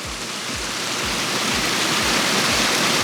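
Water from a backyard waterfall in a koi pond garden pours steadily in a loud, close, continuous rush, with faint low thumps recurring about every half second beneath the spray.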